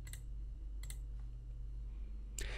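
Sharp mouse clicks selecting OK in Microsoft Project 2016, three short, dry taps spaced across a quiet room with a steady low hum beneath.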